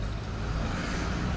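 A car drives slowly around a busy car park with its engine running, giving a steady, continuous rumble without any talking.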